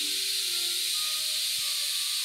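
Steady, fairly quiet steam hiss from a pressure cooker cooking meat on a home stove, continuous and unbroken throughout.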